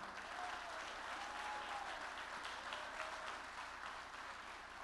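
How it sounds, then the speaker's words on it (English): Steady applause from an audience at a high school coaches' first team awards ceremony, continuous clapping that stays even throughout at a moderate distance, with no voices over it. "Please give a big round of applause for Mr. Kevin Whitlow."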